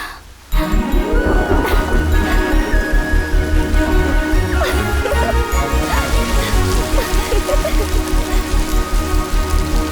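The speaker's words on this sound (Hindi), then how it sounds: "जाते वक्त जो बारिश आनी चाहिए थी वो लौटते वक्त आ गई।" Steady heavy rain pours down, close and loud, with a dense patter and low rumbling underneath that continues without pause.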